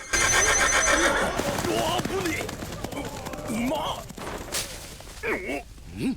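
A horse whinnies loudly several times amid hoofbeats and commotion, with people talking over the noise.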